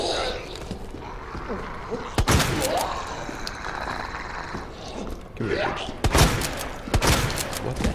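Gunfire in the video game Resident Evil 2 Remake: a few sharp, loud shots ring out at scattered moments over a busy in-game background with other thumps and noise.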